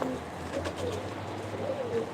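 Pigeons coo softly at close range in low, rolling calls against a steady background hum, with no talk over them.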